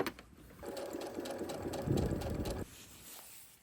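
Sewing machine stitching fabric strips for bias tape, a single steady whirring run of about two seconds, close and fairly loud, with no voices.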